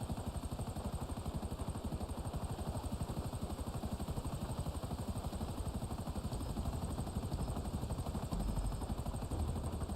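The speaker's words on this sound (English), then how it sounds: "I think this helicopter is actually faster than a Dodo seaplane" Helicopter in GTA Online flying steadily, its rotor chop a dense continuous thrum that stays loud and even throughout with no talk.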